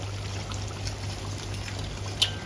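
Thick mackerel curry, chu chee pla tu, is poured onto plates, a soft close trickle and pour over a low steady hum, with one small clink near the end.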